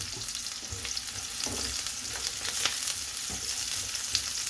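Onion and garlic sauté in a hot pan for a Filipino vegetable dish, giving a steady close sizzle with occasional stirring scrapes and small pops, no talking.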